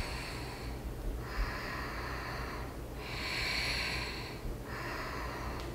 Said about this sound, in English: Inhaling and exhale slowly.